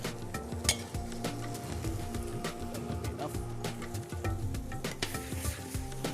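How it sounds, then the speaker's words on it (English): Lamb sizzles and browns in a pan for rogan josh while a spoon clinks and scrapes against the metal now and then, with faint background sounds throughout. "we add the lamb into it and just carry on frying and browning the lamb"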